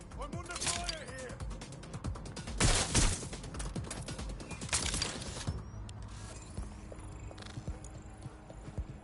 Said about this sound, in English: I'm under fire here.